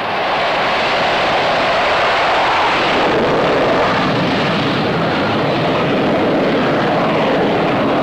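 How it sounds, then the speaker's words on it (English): A Vietnam-era U.S. Navy aircraft, about 20 tons, is catapulted from a carrier in the China Sea, a loud, continuous jet roar filling the clip with no break, close and overwhelming. "Standing start, 20 tons of aircraft reach flying speed in 2 seconds flat."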